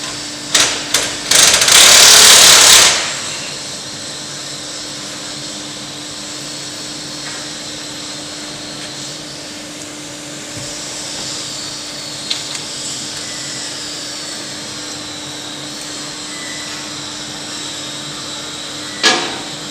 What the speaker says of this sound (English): just hooking vice grips on there and then just letting the impact twirl it around